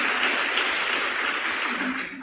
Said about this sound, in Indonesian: Tepuk tangan untuk kasih Tuhan yang besar.